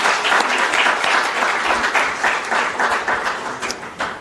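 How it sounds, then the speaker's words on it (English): A seated audience breaks into a round of applause for itself at a gathering, a dense, loud wash of many hands clapping that holds steady and then gradually thins toward the end, with no talking over it. "I'd like to maybe just give us a round of applause for ourselves"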